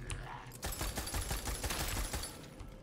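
Sniper rifle gunfire in the video game Tiny Tina's Wonderlands, a dense run of sharp, loud shots and clattering bursts that starts after a brief lull and keeps going to the end, with a voice talking underneath.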